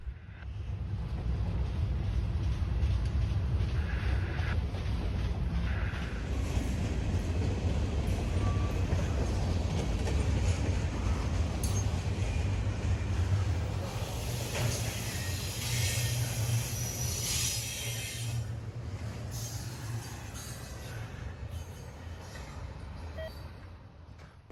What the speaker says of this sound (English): This train featured an odd assortment of intermodals and general freight.